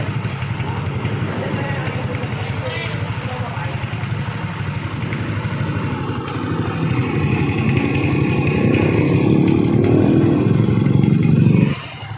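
A Yamaha Aerox scooter with its engine bored to 207cc starts for the first time and runs steadily near at hand, the rough idle swelling louder toward the end before cutting back, with voices talking over it.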